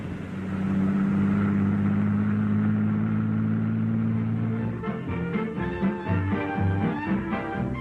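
An engine rumbles loud and steady for several seconds, then its hum shifts and mixes with music, all at close range with no one talking, as a bus pulls in at a small-town stop in a 1940s film.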